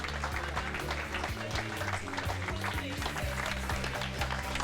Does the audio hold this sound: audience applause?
yes